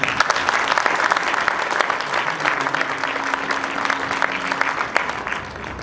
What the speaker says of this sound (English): I think you all deserve a great round of applause